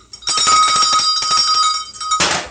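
A struck bell sound effect rings out loud and bright, sustaining with a clear tone for about two seconds before cutting off abruptly.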